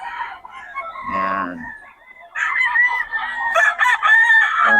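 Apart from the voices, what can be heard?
stag (young rooster) crowing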